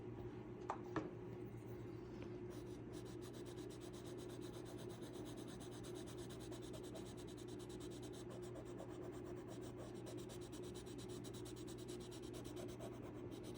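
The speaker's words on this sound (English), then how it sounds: "And burnishing." Steady, soft rubbing and scraping of a burnishing tool working over a colored pencil drawing, a continuous close friction texture with a couple of faint taps near the start.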